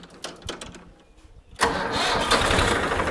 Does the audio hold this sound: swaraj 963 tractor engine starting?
yes